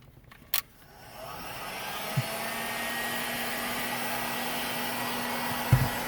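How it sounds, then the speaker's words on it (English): Heat gun blowing on a plastic Jeep dash, starting after a click with a steady, moderately loud airy whoosh and fan hum that runs unbroken, with a couple of faint handling knocks. "Okay, so I'm starting with the heat gun."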